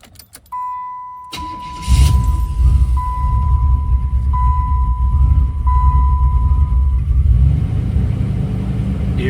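A 1992 Buick Roadmaster's 5.7-liter V8 catches with a sharp start and settles into a steady, loud, close idle rumble, with a thin electronic chime tone pulsing over it for several seconds.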